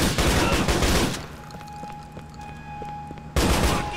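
Shotgun blasts in the motorcycle-gang action game GTA: The Lost and Damned: loud, dense bursts of gunfire open the clip, give way to a quieter humming stretch, then return sharply at the end, with no talk.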